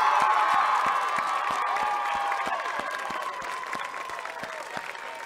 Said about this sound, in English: Final round of applause, standing ovation for Ms.